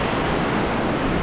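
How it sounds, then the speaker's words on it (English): Fish Falls, a waterfall in the Grampians, gives off a steady, broadband rushing roar close by, continuous and unbroken with no voices over it. "that's Fish Falls right behind me"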